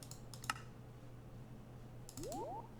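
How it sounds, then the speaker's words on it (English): A computer mouse gives sharp, quiet clicks in quick pairs in a planet-hopping game. Electronic swooping tones rise just after the second set of clicks against a faint hum. "Oh, there we go, double clicking it."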